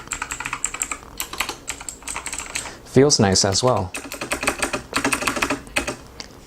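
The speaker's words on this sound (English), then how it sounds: "this is a VAVA Chroma Mechanical Keyboard with blue Kailh" Clicky blue Kailh switches on a VAVA Chroma mechanical keyboard rattle in fast, dense typing bursts, close and crisp, with a short stretch of talking partway through.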